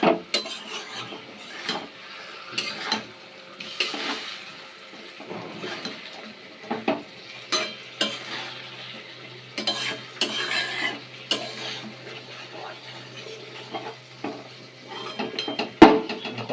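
Bengali fish curry spice paste being stirred and fried in a pan, with intermittent scraping of a spoon against metal and a low sizzle running underneath, ending with a sharp clank near the end; no speech.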